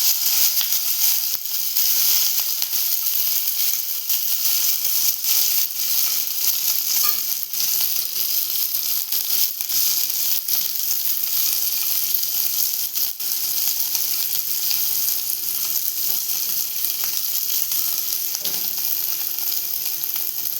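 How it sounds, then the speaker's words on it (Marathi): Green chillies sizzle and fry steadily in a hot pan for the whole stretch, a dense constant hiss broken by occasional stirring scrapes, close and loud with no talking. "मिरची सारी आता आपण हे परतवून घेऊया."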